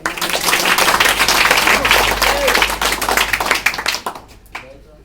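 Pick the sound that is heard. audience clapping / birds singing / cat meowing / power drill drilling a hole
audience clapping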